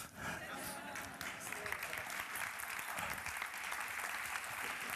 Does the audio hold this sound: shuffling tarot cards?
no